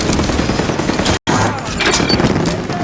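Turret gunfire in Halo 5 rattles in dense, rapid bursts with booming impacts, loud and continuous apart from a split-second dropout, and no clear speech over it.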